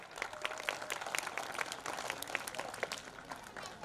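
An audience at a Marathi lecture event applauds, the scattered hand claps faint and somewhat distant, forming a light, uneven patter that carries on for a few seconds without talk.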